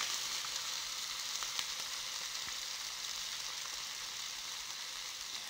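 Lamb chops frying in a hot grill pan over medium heat give a steady, even sizzle that holds at the same level throughout, with a few faint pops and ticks and nobody talking.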